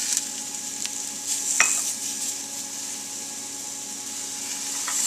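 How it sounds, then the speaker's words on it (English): Broccoli sautéing in a pan with other vegetables: a steady, soft sizzle with occasional light scrapes and stirring clicks from a utensil, close and continuous throughout. "we'll let these vegetables saute for about 5 minutes"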